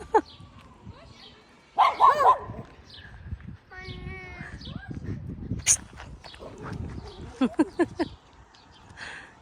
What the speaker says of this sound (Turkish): Au köpek var orada.